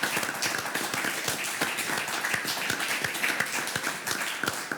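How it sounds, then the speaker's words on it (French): A studio audience on a Nîmes television programme breaks into steady applause for a guest, dense clapping that carries through the whole stretch at a lively, even level. "On peut vous applaudir"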